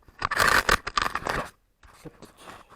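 A body camera being clipped onto a backpack strap: close, loud scraping and rustling of plastic against fabric, a brief pause, then softer fumbling handling noises.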